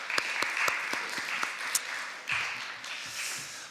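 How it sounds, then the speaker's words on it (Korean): A church congregation at a Sunday worship service claps; a few sharp, separate claps come first and quickly merge into steady, moderately loud applause that fades slightly toward the end. "하나님께 영광의 박수 올려드리겠습니다"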